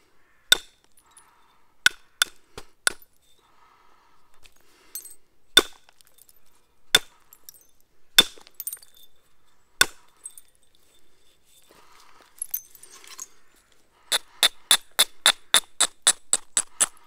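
Sharp stone-on-stone strikes from a hammerstone knapping a flint dagger, scattered single knocks at first, then a rapid run of about ten evenly spaced blows at the end, close and crisp with no talk.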